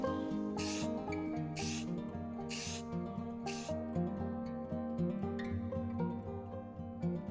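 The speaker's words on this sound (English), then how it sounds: "Spray other print pieces with frosted white paint." Four short, sharp hisses of spray paint burst out in a steady rhythm as frosted white paint is sprayed onto 3D-printed pieces, with soft music playing underneath throughout.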